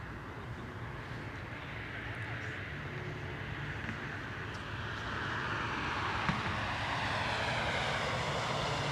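An airplane taxis at Anchorage airport, its engine a steady, continuous drone that grows slightly louder over the span, heard from outside at moderate distance.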